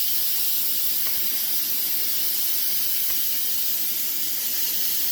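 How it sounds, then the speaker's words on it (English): Steam hisses steadily from a pressure release while rice congee cooks, a loud, broad, continuous rush lasting the whole stretch with no talk. "It's just steam."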